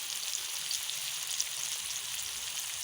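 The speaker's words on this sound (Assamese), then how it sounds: "এতিয়া পিঁয়াজ আৰু জলকীয়াখিনি ভাজি ল'ম।" Chopped onion and green chillies frying in a pan with salt and turmeric, a continuous fine high sizzle with light popping, steady and close, with no talking.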